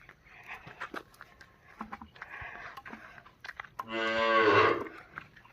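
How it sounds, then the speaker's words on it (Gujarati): A tethered cow gives one loud, drawn-out moo near the end, after scattered rustling and faint background sounds at a farm at sunset. "ગાય બાય બાંધી છે"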